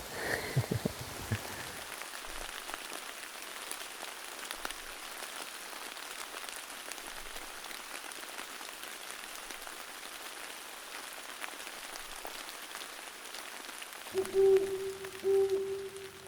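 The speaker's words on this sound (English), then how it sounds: "Yep, it's raining again. Getting rained on." Steady rain patters on a hunting tree stand in Illinois during a pre-rut hunt, a soft continuous hiss with faint drips, followed by a low hum near the end.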